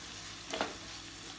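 Chopped onion sizzles in hot oil in a pan while being stirred for chicken spaghetti, a soft, steady frying hiss with one brief scraping stir in the middle, quiet and without talking.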